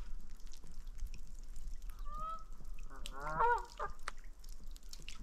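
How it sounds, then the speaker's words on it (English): Geese honk near a lake: a few short, nasal calls from two or more birds cluster in the middle, moderately close, over a quiet outdoor background with no talking. "Listen to the geese."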